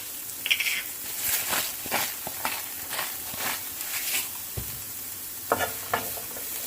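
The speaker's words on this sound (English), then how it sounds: "So I'm going to continue sauteing this for 3 to 5 more minutes just to let the carrots sort of get started with cooking" Carrots stirred and sautéing in a pan while cooking Korean black bean noodles, with a soft, steady sizzle and occasional scraping clinks of a utensil against the pan, no talking.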